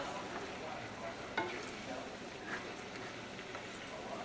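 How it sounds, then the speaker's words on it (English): A soft, steady bubbling sizzle of a brandy cream sauce simmering in a pan, faint and continuous with a few small pops. "it's starting to come back to the simmer"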